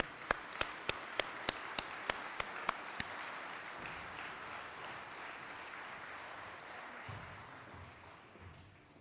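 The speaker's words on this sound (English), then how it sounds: "Everybody, please give a huge round of applause for Julieta." Audience applause at an apprenticeship graduation ceremony for Local 425, opening with a run of about ten sharp, evenly spaced claps near the microphone over a broad wash of crowd clapping that fades gradually over several seconds.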